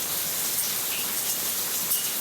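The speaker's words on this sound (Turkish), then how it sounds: "bu bence Bodrum'a bu sene yağan ilk yağmur diyebiliriz" Steady, dense rain falls in Bodrum, the season's first autumn rain, a continuous close hiss of drops on surfaces with no voices.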